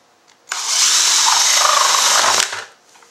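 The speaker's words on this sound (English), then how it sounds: "that is where I'm going to drill the hole for the spigot, and it's a 3/4 inch hole" A power drill bores a 3/4 inch hole in a bucket for a spigot, part of a gravity-fed water filter. It is a loud, steady whine of about two seconds that starts and stops abruptly, with quiet before and after.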